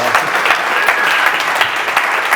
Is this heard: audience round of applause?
yes